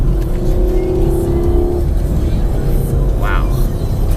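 A Chevrolet Camaro SS pulls hard down a back road, its engine note climbing steadily as it accelerates under a continuous close rumble, with a brief higher whine near the end.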